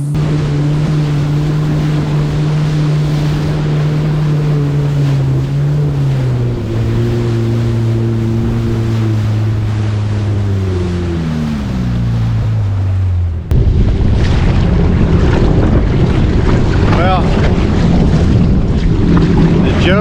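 A Yamaha WaveRunner jet ski runs solo across rough water in the Gulf of Mexico, its engine droning loud and close, pitch sliding downward, then a burst of wind buffeting and water splashing takes over.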